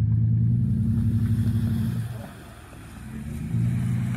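A 1995 Polaris XLT SP triple-cylinder snowmobile engine revs as its track turns, a loud, steady low drone that sags and quiets for about a second before swelling back up, with no talk.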